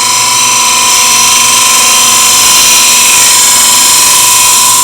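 An end grain hollowing tool cuts wood on a lathe, working from the center outward, giving a loud, steady, high-pitched hiss of shaving with a constant whine underneath, continuous throughout and without speech.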